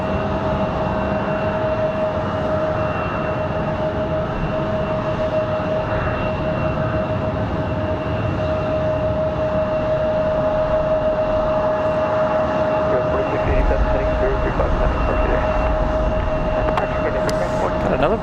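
Airliners taxi and push back at Raleigh Durham International Airport on a windy day, heard as a constant loud jet engine roar and whine with wind rumble, steady for the whole stretch.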